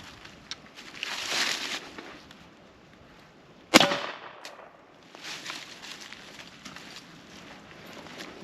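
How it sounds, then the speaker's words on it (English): A suppressed subsonic 300 Blackout rifle round striking AR500 steel armor plates in a plate carrier: one sharp, loud crack with a brief ringing decay amid quiet outdoor background. "Today we're going to be shooting some steel plates with various calibers to see what rounds are more effective at going through armor."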